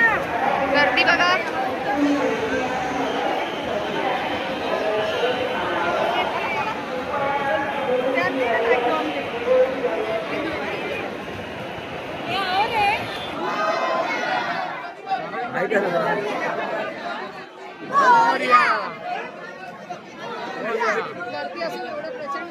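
Dense, continuous chatter from a huge crowd packed around the Lalbaugcha Raja Ganpati pandal in Mumbai, many voices overlapping steadily close by, with occasional louder calls and shouts rising out of the throng.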